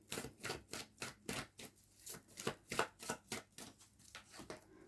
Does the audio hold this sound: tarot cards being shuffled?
yes